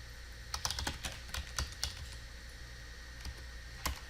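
Keys clack on a computer keyboard as network access-list commands are entered: quiet, close, irregular keystrokes in short bursts with brief pauses, over a faint steady hum.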